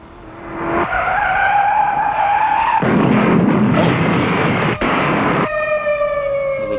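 1950s factory-fresh stock cars racing flat out on the measured mile at Daytona, a loud sustained engine roar with whining tones that surges into a broad rushing blast as cars pass, no voices.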